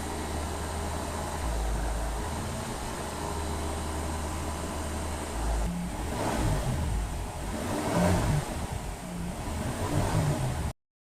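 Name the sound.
Honda Accord engine held at 2,000 RPM during cleaning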